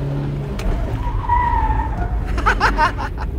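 An Esemka car with an empty load swings through a quick handbrake U-turn, its engine rumbling low before the tires let out a squealing skid that rises and chatters toward the end, close and loud.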